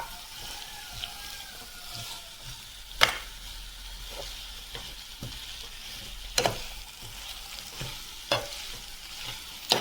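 Potato mezhukkupuratti being stirred in a pan, steady light frying hiss with a handful of sharp spatula knocks and scrapes against the pan spaced through, no talking.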